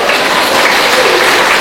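Church audience applauding during a sermon, a dense, loud burst of clapping filling the short moment with no voice over it.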